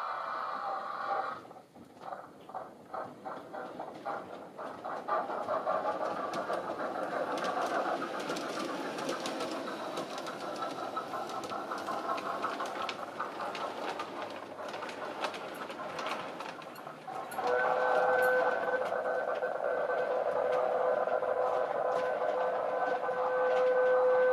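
LGB garden-scale model train running its circuit in a loft, a steady mechanical rumble and hum that shifts to a brighter, tonal whine near the end, with no talk over it.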